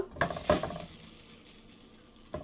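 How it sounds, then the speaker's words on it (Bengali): Two slices of cold bread from the fridge go into a hot frying pan: a couple of soft knocks, then a faint, steady sizzle as they toast. "এখানে ফ্রাই প্যানটা গরম দিয়েছে, আমি এখানে 2 পিস ব্রেড নিছি, একটু সেঁকে নেব"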